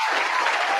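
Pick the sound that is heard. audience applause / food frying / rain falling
audience applause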